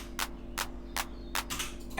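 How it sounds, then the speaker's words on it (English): A basic electronic clap sample, dry and unprocessed, repeats in a steady loop: four sharp, bright hits about every 0.4 seconds over a faint low hum, with no voices. "So the basic clap sounds like this"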